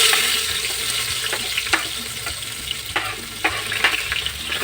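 Onions fry in ghee and oil for egg biryani, giving a bright, continuous hiss with sharp spitting crackles and a few stirring knocks, close and steady.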